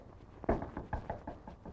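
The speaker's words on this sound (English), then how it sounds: "Who's knocking at the door?" Knocking at a door in a 1937 crime drama, a series of soft, muffled raps in an uneven rhythm, faint and somewhat distant, with no talking.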